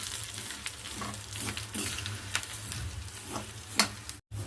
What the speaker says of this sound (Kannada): ಈಗೇನದ ಫ್ರೈ ಹಾಕ್ತೀನಿ